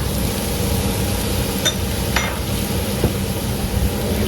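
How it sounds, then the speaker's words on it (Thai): Char kway teow noodles with soy sauce are stir-fried in a hot pan, making a loud, dense, steady sizzle with a few sharp scraping clicks from stirring, close and without speech. "แล้วก็ผัดให้ส่วนผสมทุกอย่างเข้ากันเลยนะคะ"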